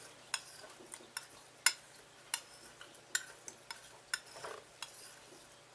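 Palette knife tapping and dabbing into acrylic paint on a palette while mixing a pinkish flesh-tone base, giving a series of soft, close, irregular clicks and taps over a quiet background.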